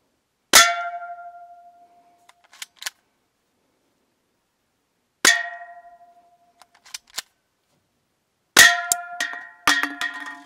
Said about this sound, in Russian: Теперь выстрел будет с 3 шагов.